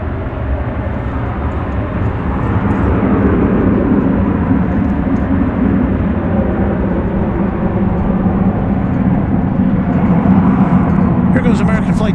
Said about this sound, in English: American Flight 2628 to Omaha, Nebraska. It's a 737-800.